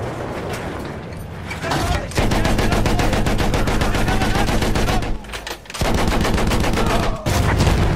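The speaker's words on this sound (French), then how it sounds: "Joli tir, McManus!" Dense bursts of gunfire from the Battlefield 1 video game, rapid machine-gun volleys and rifle shots crackling loudly almost without pause, with two brief lulls amid the battle din.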